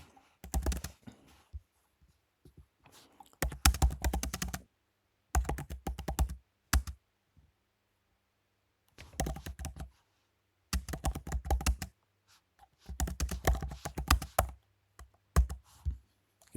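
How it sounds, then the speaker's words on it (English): Typing a prompt on a computer keyboard, close clattering keystrokes in several quick bursts broken by short pauses, with no talking. "now I've typed in what I'm going to need"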